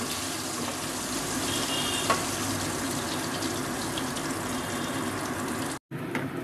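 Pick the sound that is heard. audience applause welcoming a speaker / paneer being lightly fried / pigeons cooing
paneer being lightly fried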